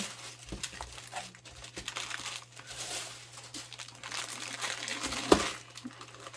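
Plastic craft packaging crinkles softly while being wrapped up, with scattered rustles and a sharp crackle near the end over a steady low hum.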